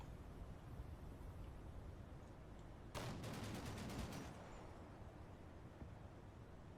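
A short burst of rapid weapon fire in a war video game, distant and quick, crackling for about a second and a half over a steady background hum.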